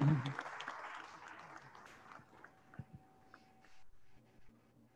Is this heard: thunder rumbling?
no